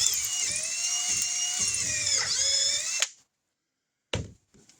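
A power drill bores into the side of a Chinese tri-fuel generator carburetor, a steady high whine for about three seconds before stopping, followed by silence and brief faint handling noises.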